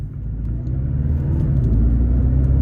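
A 2022 Porsche 718 Cayman T driving on the road, its engine a steady low rumble from inside the cabin that builds slightly in loudness over a few seconds, with no talking.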